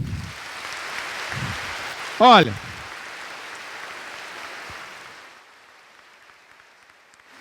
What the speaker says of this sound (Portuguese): Pode aplaudir o seu irmão.